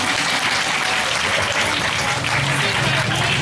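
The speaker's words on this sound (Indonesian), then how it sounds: "Aku ngenteni tepuk tangan itu." An audience at an Islamic boarding-school lecture breaks into dense, loud applause, many hands clapping continuously and close up for a few seconds.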